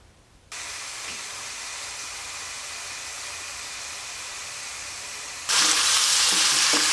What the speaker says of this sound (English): I'm just going to cook up some hamburger helper, the cheeseburger macaroni